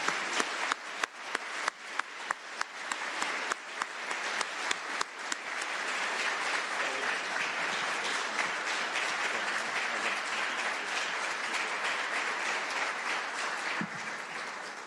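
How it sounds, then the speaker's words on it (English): Audience at a state attorney general debate applauding the candidates, starting with distinct individual claps that swell into sustained, even applause lasting several seconds before slowly thinning. "Let's give a big round of applause to both these candidates."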